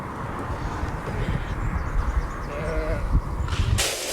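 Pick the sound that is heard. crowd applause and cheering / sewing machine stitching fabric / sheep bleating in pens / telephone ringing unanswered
sheep bleating in pens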